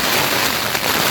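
Heavy rain patters densely and steadily on a tent close by during a wild camp in the Brecon Beacons, Wales, a loud continuous hiss with no voices.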